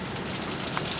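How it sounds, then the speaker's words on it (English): Steady rain falls at the Weeping Wall along a Rocky Mountain road in Glacier country, a dense, even hiss of drops spattering nearby surfaces, with no voices. "Look at us, getting rained on."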